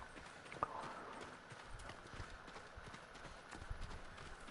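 Horse hooves clip-clopping at a walk in the Ghost of Tsushima video game, a steady rhythmic patter of hoofbeats with game ambience behind it and one sharper hit early on, no talking.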